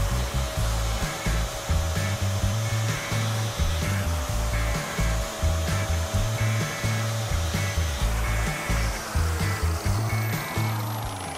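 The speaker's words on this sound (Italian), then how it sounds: "Adesso ti vado a rifinire questa smerigliatura sempre con la grana 36, ma solo migliorando il movimento della macchinetta." An angle grinder fitted with a 36-grit iron grinding disc finishes a metal surface, a steady high whine over a loud rhythmic rasping that pulses evenly as the tool sweeps back and forth, close up and continuous.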